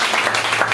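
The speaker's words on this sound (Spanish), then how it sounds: "Denle un aplauso al Señor Jesús en esta mañana" Loud, dense applause from a church congregation fills a short moment, many hands clapping together close by without pause.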